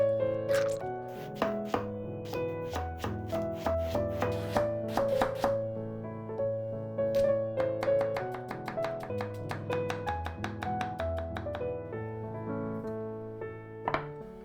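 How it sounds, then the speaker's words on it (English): A knife finely chops garlic on a cutting board with a steady run of quick, crisp chops, heard close over background music. "Then finely chop the garlic."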